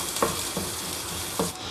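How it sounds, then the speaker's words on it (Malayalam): Dal tadka sizzles in a pan after fresh coriander leaves go in, with a steady close frying hiss broken by a few distinct stirring scrapes of the spoon. "നമുക്ക് ജസ്റ്റ് ഒന്ന് ഇളക്കി കൊടുക്കാം."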